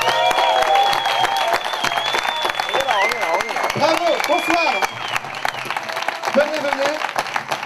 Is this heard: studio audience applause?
yes